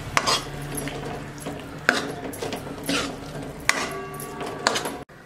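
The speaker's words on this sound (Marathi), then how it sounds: "याला चांगलं मिक्स करून घेऊ" A spoon stirs yogurt into fried spices in a metal pan for a dhaba-style dahi bhindi gravy, giving steady scraping and swirling with several sharp clinks against the pan, close and moderately loud.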